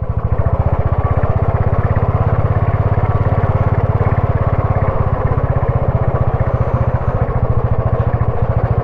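Motorcycle engine labouring steadily while riding a rough, bad mountain pass road between Jispa and Pang in Ladakh, a loud, close, continuous throbbing drone with rapid regular pulses throughout, no talk.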